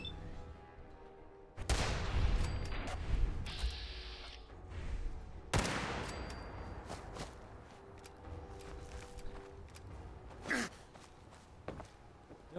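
Gunfire in Fallout 4 during Far Harbor: two loud sharp bursts with ringing tails, followed by quieter scattered shots and shuffling, with faint breathing between.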